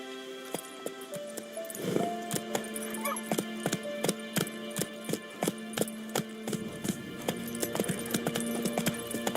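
Horse hooves clip-clop in a quick, steady rhythm in The Witcher 3: Wild Hunt video game, close and continuous over game music and ambience.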